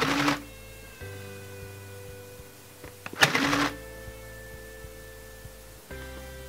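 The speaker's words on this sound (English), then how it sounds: "we just start and stop the machine really quick" A Sew Cool Design Studio sewing machine spot stitches felt for a pillow in two short, buzzing bursts, started and stopped quickly, with a steady hum in the quiet gaps between them.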